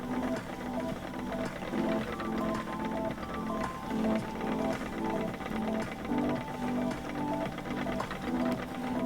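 A sewing machine stitches hard, with a continuous rhythmic mechanical whir pulsing evenly at close range and no speech over it.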